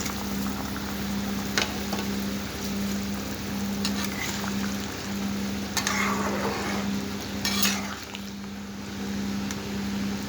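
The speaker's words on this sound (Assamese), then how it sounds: "মোৰ আঞ্জাখন উতলিবলৈ ধৰিছে এয়া এতিয়া মই মাছখিনি ইয়াতে দি দিম মাছখিনি ইয়াতে দি দিলোঁ" Fish curry simmering in a pot, with a steady bubbling boil and a continuous low hum, broken by a few sharp clinks and splashes as the fish pieces go in and get stirred; no one speaks.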